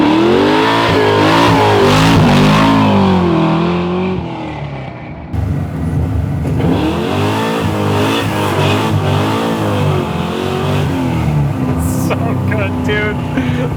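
Custom 1967 Camaro making over 600 hp, its engine revving hard with a rough, loud exhaust while the tires spin, the pitch sweeping up and down, then settling into a steady, throaty idle.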